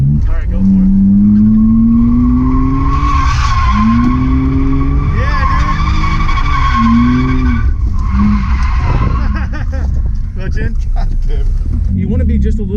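A drift car skids through transitions with long, loud tire squeals rising and falling over a roaring engine, while someone talks over the noise.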